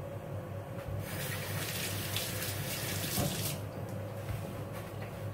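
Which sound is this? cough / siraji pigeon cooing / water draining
water draining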